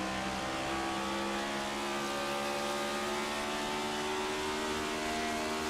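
Outlaw race cars at Rockingham roar past in a continuous, loud engine drone with steady high-pitched whine, no talk over it.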